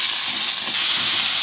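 Onions frying in a pot on a narrowboat stove for Swedish kalops stew, a loud, dense, continuous sizzle with no pauses, close up and alone, with no voices.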